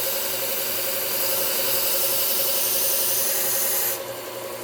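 A belt sander grinding a lawn mower blade, a loud steady abrasive rasp over the motor's hum that drops off sharply near the end as the blade lifts away.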